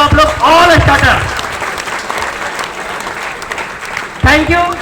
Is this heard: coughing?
no